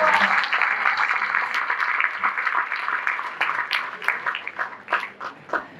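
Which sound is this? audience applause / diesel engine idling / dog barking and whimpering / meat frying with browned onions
audience applause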